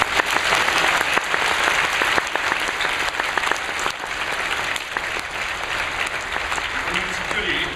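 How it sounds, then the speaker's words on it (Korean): A Korean church audience gives a sustained round of applause after a performance, full dense clapping that holds steady for several seconds and then tapers slightly while scattered voices come through near the end. "우리 한번 다시 한번 박수로."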